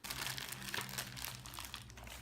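Newspaper being crumpled into balls for stuffing a homemade Mjolnir hammer prop, a continuous close crackling and crinkling of paper with no talk.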